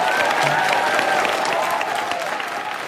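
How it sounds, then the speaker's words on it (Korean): Studio audience applauding at a Korean talk-show style news broadcast, a steady dense wash of clapping throughout, fairly loud and continuous with no voices over it. "오늘 박수 부탁드립니다."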